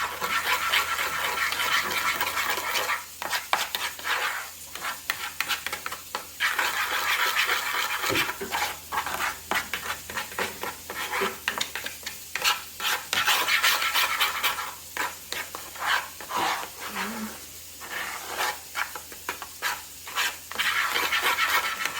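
Spoon scraping and stirring seasoning into a mix for air-fried tilapia, a steady run of close, gritty rubbing strokes with brief pauses, no talking.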